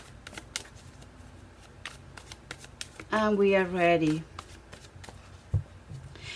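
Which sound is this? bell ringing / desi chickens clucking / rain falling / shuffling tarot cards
shuffling tarot cards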